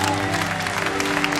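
A concert crowd in Rimini applauds as a band takes the stage at an outdoor waterfront venue, loud dense clapping blended with a steady tonal hum from the stage sound system.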